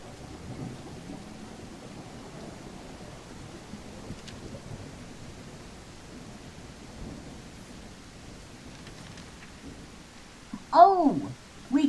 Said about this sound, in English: Rainy, rainy.